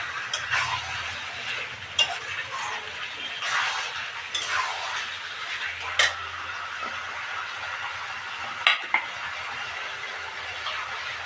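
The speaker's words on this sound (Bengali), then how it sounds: "আলুগুলো দিয়ে একটু কষে নিলাম।" Meat and potatoes are stir-fried in a pan, with a soft sizzle under scraping stirs and occasional sharp clinks of the utensil against the pan, close and moderately loud.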